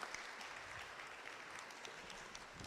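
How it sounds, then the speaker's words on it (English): Audience at an open day event giving a round of applause, a steady dense wash of clapping that holds evenly throughout at moderate distance. "Let's give Amanda a round of applause for joining us today."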